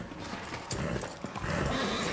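Horse hooves clatter and a brief whinny amid a dense, busy action-scene soundtrack with rumbling low noise, from the film John Wick: Chapter 3 - Parabellum.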